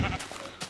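Short sheep bleats in a video game, two brief wavering cries over faint background, with a voice briefly under the opening.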